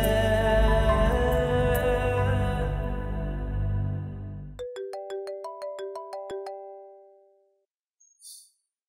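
An incoming-call phone ringtone plays loud and close as a rich melodic tune, then shifts to a series of bright, evenly spaced electronic tones stepping through a short melody before it stops, with one faint tone just after.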